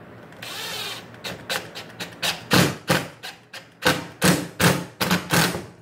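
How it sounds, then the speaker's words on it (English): A drywall patch is driven into metal clips with a power drill, giving a quick series of sharp thuds and short drill bursts in a steady rhythm, close and fairly loud with no talking. "So you put this patch back in. Go ahead and screw it in."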